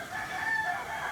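A large five-year-old farm rooster lets out one sustained crow, clear and moderately close, with no talk over it.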